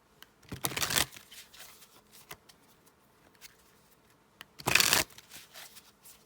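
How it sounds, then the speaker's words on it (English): Tarot cards shuffled by hand, two quick riffling bursts separated by softer handling and shuffling, close and moderately quiet with no talk. "let me get some more cards. I just feel like pulling some more cards,"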